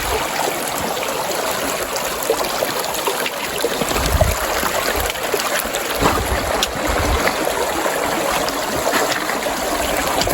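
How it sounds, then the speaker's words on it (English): Creek water rushes and gurgles steadily, filling the scene with a constant close wash of flowing sound and no voices. "Of course, you need to do a creek crossing."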